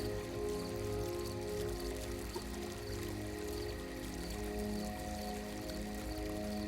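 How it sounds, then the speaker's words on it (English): Gentle, continuous water flowing from the center of a fountain, a steady even splashing and trickling hiss that stays at one soft level without breaks. "Water flows gently from the center of the fountain."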